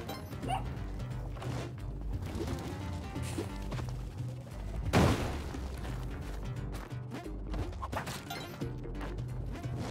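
Monty the dog in Spelunky 2 gives faint, scattered barks over a constant game backdrop, with one louder crashing thud partway through.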